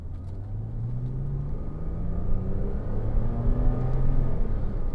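A Porsche Cayman 2.9 987 pulls away on a slippery country road, its engine rising through steady accelerating harmonics as a close, rumbling drone with no talk.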